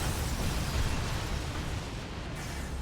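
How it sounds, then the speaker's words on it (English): A dense, roaring explosion rumbles from the anime My Hero Academia Vigilantes, a sustained blast of broadband noise heavy in the low end that stays loud for the whole stretch without any speech. "I see your explosion, and I answer it with an explosion."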